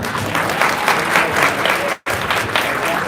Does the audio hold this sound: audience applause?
yes